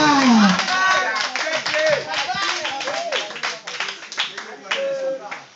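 Congregation at a church service in Abidjan breaking into steady, dense applause that fills the whole stretch, close and loud, with scattered voices and cheers mixed in among the clapping.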